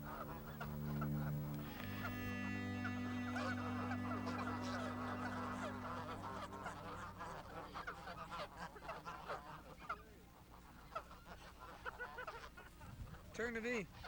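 Geese honk repeatedly at a stop in a village, loud and close, while a voice speaks over the calls and other birds chatter in the background.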